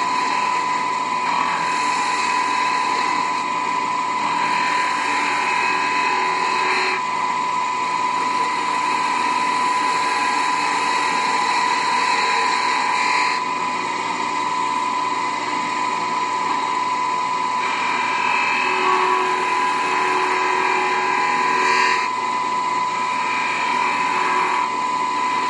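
Wood lathe turning a candlestick while a tool tapers the candle cup, a steady high whine with a constant tone and shifting scraping layers, running continuously without talk.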